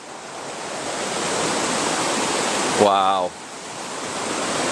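Ocean waves wash onto a beach in a broad, steady roar of surf, close and continuous, with a brief spoken exclamation near the end.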